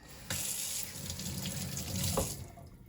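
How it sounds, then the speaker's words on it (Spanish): Running tap water pours steadily into a sink while conch snails are washed for a Honduran coconut conch soup, a close, even splash that begins abruptly and fades near the end, with no talk. "Lo primero que vamos a hacer es lavar nuestros caracoles"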